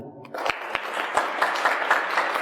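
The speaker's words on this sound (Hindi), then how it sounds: "अपने लिए एक बार ताली बजा दीजिए" Audience at a yoga and pranayama session clapping for themselves: sharp individual claps begin after a brief quiet, then build into scattered, uneven applause from a modest group.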